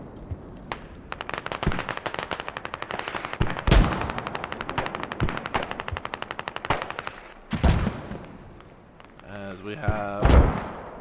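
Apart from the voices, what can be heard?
mortar shells falling in Squad video game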